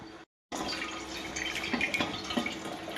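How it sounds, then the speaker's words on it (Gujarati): Water running and dripping as flattened rice (poha) is rinsed for street-style batata poha, a steady close splashing wash after a brief silent gap, with no talk. "આ પૌવાને ધોવાના છે, વોશ કરી દેવાના."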